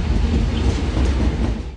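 A freight train rolls along railway tracks near an old station in Guaratinguetá, Brazil, giving a loud, close, continuous rumble with rattling wheels that cuts off abruptly at the end.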